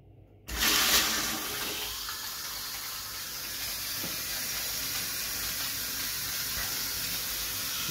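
A Mira Escape electric shower bursts into running water after a short silence, a steady close hiss of flowing spray that carries on evenly to the end.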